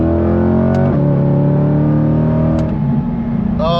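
Chevrolet Corvette C8 with a titanium exhaust, engine rising and dropping through quick downshifts, loud and close, with rev blips and crackles near the end and no talk.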